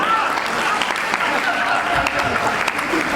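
Dense, steady applause from the audience at a Hindi humorous poetry gathering (hasya kavi goshthi), a continuous wash of clapping with some voices mixed in throughout.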